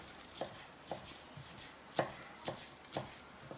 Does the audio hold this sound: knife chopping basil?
yes